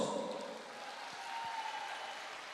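An audience at a company anniversary gathering applauds, a soft, even wash of clapping that sounds distant and fairly faint, continuing steadily without a clear start or finish.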